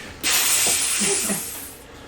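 Steam bursts into a loud, sustained hiss that lasts about a second and a half and then tapers off, with a few faint low thuds underneath.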